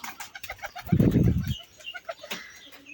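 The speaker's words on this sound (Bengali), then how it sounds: "ওই যে ওখানেও আছে কবুতর" High flyer pigeons cooing nearby, a brief low throaty coo burst in the middle, with faint chirps and rustling around it.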